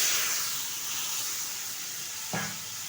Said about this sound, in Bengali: এখন এই মাছ ভাজির তেলেই দিয়ে দিচ্ছি কিছুটা কালো জিরে ফোড়ন, দিয়ে দিচ্ছি পেস্ট করে রাখা সর্ষে আর পোস্ত